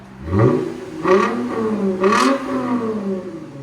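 A 2008 Lexus IS 250 with a 2.5L V6 and a Valvetronic Designs universal muffler revs three times in quick succession, each blip rising sharply and falling back to idle, loud and close with no talk.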